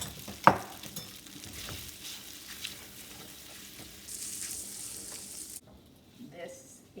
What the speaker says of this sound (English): just going to put it into our sauce, just like that. Coat it really well.